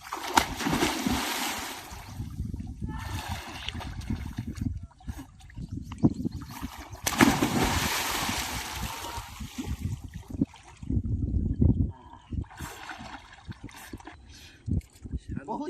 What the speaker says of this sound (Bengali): তো চলো চানটা করে নিই।